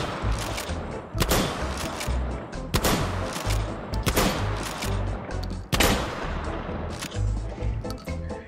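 Shotgun blasts from birdshot shells fired at targets in the H3VR virtual reality game, several loud sharp reports spaced a second or two apart, each followed by a scatter of pellet impacts.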